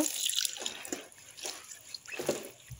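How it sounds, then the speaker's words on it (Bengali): Jute leaves are washed by hand in water, with a series of splashy sloshes and drips in an uneven rhythm, close and fairly clear. "এই পাট শাকটা ভালো করে ধুয়ে নিব"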